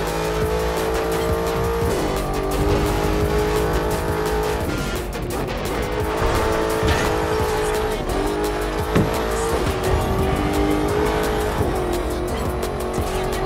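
Race car engine in The Crew 2 roars steadily and loudly throughout while tires squeal and skid at intervals, with no talking.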